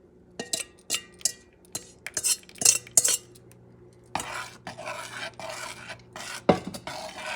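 A utensil stirring tembleque mixture in a pot on a medium-heat stove: close metallic clinks and scrapes against the pot at a steady pace, followed by a continuous hissing wash, with no talking.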